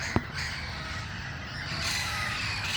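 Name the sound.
flock of parrots calling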